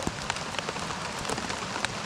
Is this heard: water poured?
no